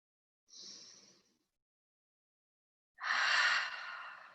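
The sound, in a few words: deep breath in through the nose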